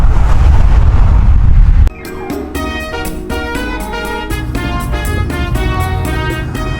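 Heavy coastal wind on Hawaii's east side buffets the microphone with a low roar for about two seconds, then cuts off and gives way to rhythmic ringing tones.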